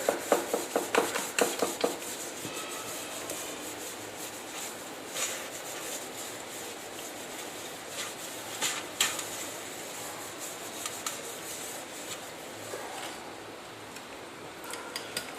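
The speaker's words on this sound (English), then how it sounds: "So we will have to grease it a bit." Greasing a cake pan: rubbing and scraping strokes on the pan, a quick run of close, fairly loud rubs at first, then sparser, fainter scrapes over quiet room noise, with no talking.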